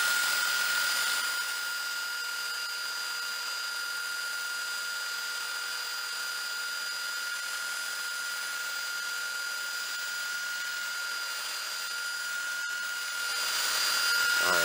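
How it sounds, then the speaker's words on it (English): Craftsman belt sander rounding the edges of 2x4 lumber, a steady high whine and hiss running continuously for the whole stretch at a moderate distance. "I have my little belt sander, my Craftsman belt sander rigged up here"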